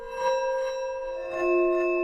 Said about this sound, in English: So that maybe sounds like a bowed bell or a scraped bell.